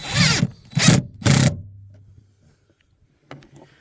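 An impact driver tightening a bolt fires three short loud bursts in quick succession, followed by a brief whirring tail and a faint clink near the end.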